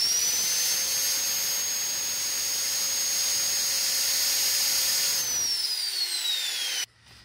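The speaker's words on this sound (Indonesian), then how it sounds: "Saya pakai gerinda" An angle grinder runs unloaded at a steady high-pitched whine, close and loud, holding constant for several seconds, then winding down in pitch as it is switched off and cutting out abruptly near the end.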